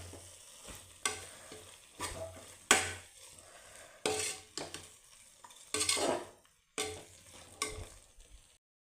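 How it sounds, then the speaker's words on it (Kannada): Ingredients for fenugreek-leaf pulao fry in a pan while a spoon stirs and scrapes them in repeated bursts, sizzling close by with no talking. "ಇದನ್ನೆಲ್ಲ ಹಸಿ ವಾಸನೆ ಹೋಗೋವರೆಗೂ ಚೆನ್ನಾಗಿ ಫ್ರೈ ಮಾಡ್ಕೊಳ್ಳೋಣ"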